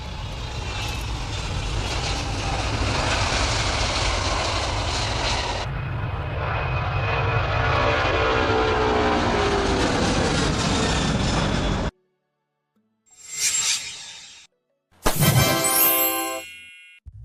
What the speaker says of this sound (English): This is the Antonov An-225 Mriya, launched in 1988